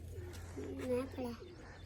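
A pigeon coos softly, a few rolling, throaty coos over a steady low hum in the background.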